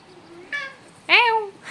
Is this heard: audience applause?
no